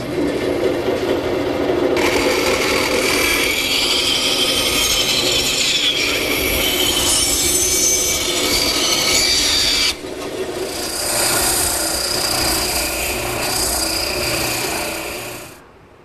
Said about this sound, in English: I'll rough them out at the bandsaw.